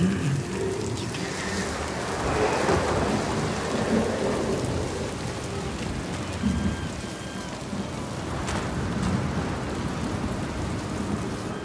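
A storm rolls through in the video game Senua's Saga: Hellblade II, with heavy continuous rain hissing on surfaces and low rumbles of thunder swelling beneath, dense and enveloping throughout.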